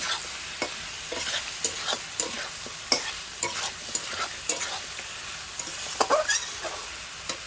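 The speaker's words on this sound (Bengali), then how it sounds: "আমি আলুটা দিয়ে দেবো, সঙ্গে ডাঁটাটাও দিয়ে দেবো, দিয়ে ভালো করে মশলার সাথে কষে নেবো।" Potatoes and vegetable stems stir-fried in spiced oil give a steady close sizzle, broken up by repeated scraping and clattering strokes of a spatula in the pan.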